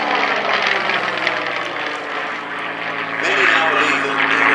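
Spitfire aircraft engine at the Shuttleworth Heritage Airshow, a sustained loud propeller drone that dips mid-way and swells again, with a commentator talking over it.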